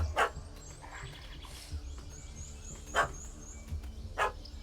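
A puppy barks in The Witcher 3: Wild Hunt, Hearts of Stone, a few sharp yaps spaced over several seconds amid game ambience with birds chirping.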